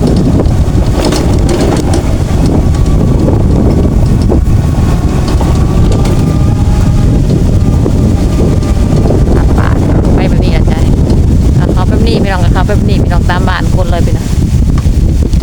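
Dry wind blows steadily past roadside sugarcane fields, a loud, continuous rumbling buffet with a few faint chirps rising near the end.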